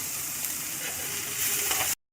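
Steady, close sizzling and crackling of onions frying in a hot pan for Mysore masala dosa, continuous throughout, growing slightly louder before cutting off abruptly.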